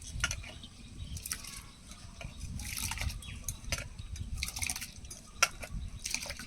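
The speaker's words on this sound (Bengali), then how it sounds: "আমি এখন পাট শাকের জন্য মুসুর ডালটা সেদ্ধ করে নেব।" Red lentils (masoor dal) boil in a pot of water, with soft, irregular bubbling and light liquid splashes rising and falling close by.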